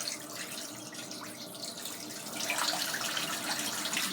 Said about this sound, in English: just gonna fill up the sink again. A little bit of warm water.